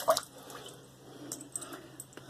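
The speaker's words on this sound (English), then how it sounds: "let's put some more water on the face." Water splashes and drips from hands onto a face before shaving, with a sharp wet splash at the start followed by faint trickling and small drips, close and quiet.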